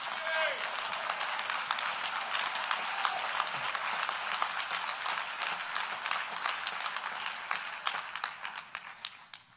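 Audience applause at a university investiture ceremony, a dense, steady wash of many hands clapping that holds for most of the stretch before thinning and fading out near the end, with no talk over it.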